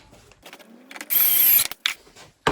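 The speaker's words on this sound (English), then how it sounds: "let's try a dry run and do up some of those screws" A power driver runs screws into a guitar body in short whirring bursts, with the loudest run lasting about half a second, followed by brief clicks and a final quick burst, all close.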